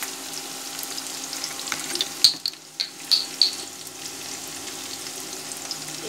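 Vegetables for cabbage Manchurian fry in a pan, giving a steady soft sizzle with a few sharp crackles and stirring clinks near the middle.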